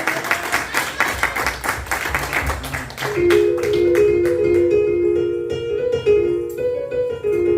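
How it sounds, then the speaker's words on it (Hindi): A church congregation at a Pakistani Christian fellowship service claps together in a loud, dense rhythmic burst that carries on for several seconds, mixed with crowd noise and a sustained musical tone in the background. "तालियों की आवाज बहुत होनी चाहिए। हालेलुया, क्लैप करें।"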